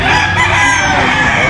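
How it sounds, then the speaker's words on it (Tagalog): A gamefowl rooster at a Bulacan farm crows in one hoarse, drawn-out call over dense background clucking and farmyard noise, loud and close. "Ang popogi ng manok ni Boss Albert talaga eh"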